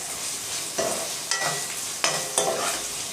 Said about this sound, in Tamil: அடுப்பை குறைவான தணலில் வச்சுட்டு கலந்து விட்டுட்டே இருக்கலாம்